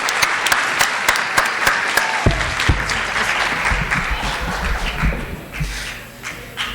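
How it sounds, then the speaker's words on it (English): A high school audience at a Hispanic Heritage Month celebration claps for performers: steady, close, dense applause with sharp individual hand claps standing out, continuing throughout and easing slightly toward the end. "Applause for the extreme talent we have in this room"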